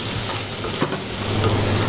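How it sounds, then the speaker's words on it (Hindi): Onions frying in a pan with curry leaves and black pepper, a loud continuous sizzle with faint stirring scrapes, close up and without talk. "प्याज को अच्छे से फ्राई करने के बाद"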